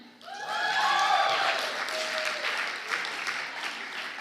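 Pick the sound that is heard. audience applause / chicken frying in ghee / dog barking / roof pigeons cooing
audience applause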